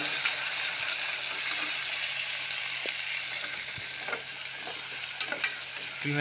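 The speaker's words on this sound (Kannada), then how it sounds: "ಈ ಥರ ಗೋಲ್ಡನ್ ಬ್ರೌನ್ ಬರೋಂಗೆ ಕ್ಲೀನಾಗಿ ಫ್ರೈ ಮಾಡ್ಕೋಬೇಕು" Onions with split pigeon peas and chana dal frying in oil in a pan until golden brown, giving a steady close hiss with occasional stirring clicks and no talking.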